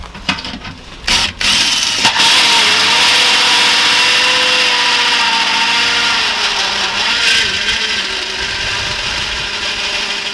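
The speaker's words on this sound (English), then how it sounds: "after running through 2 batteries and cussing at my hole saw a few more times than I'd like to admit, we did get a hole through this thing" A cordless drill with a hole saw grinds through a plastic container while a shop vacuum is being turned into a pond vacuum. After a few short stuttering starts, a loud, continuous whirring grind runs to the end.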